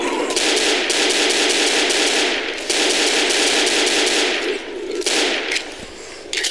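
Sustained automatic gunfire in the zombie shooter Left 4 Dead, loud and continuous bursts with brief gaps, rattling over several seconds.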